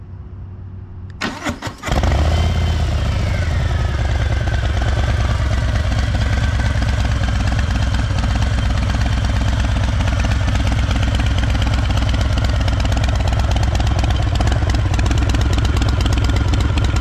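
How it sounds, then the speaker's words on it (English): A 2023 Harley-Davidson Low Rider S motorcycle cranks briefly and fires up close and loud, then settles into a steady, rumbling idle that holds for the rest of the clip with no talking. "I'm sure some of you might be wondering what this bike sounds like, so I'll start it up here and"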